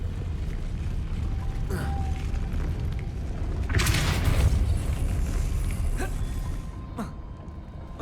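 Depulso, a force-push spell in Hogwarts Legacy, lands as a sharp burst midway through a steady mechanical creaking and grinding, with a few fainter clicks and knocks around it.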